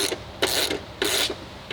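A bolt is worked loose on a motorcycle during a sissy bar build, with three short, sharp ratcheting or grinding bursts spaced evenly apart, close and fairly loud with no talking.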